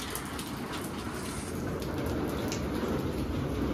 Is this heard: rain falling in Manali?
yes